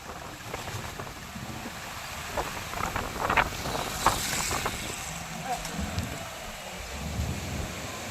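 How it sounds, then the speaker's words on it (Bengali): Strong gusting storm wind sweeps across a bus stand in Raghunathpur town, Purulia district, a steady broadband roar with stronger surges as the gusts pick up, heard close with no voices. "প্রচণ্ড হাওয়া, মাঝে মাঝে হাওয়া গতিবেগ অনেকটাই বেড়ে যাচ্ছে।"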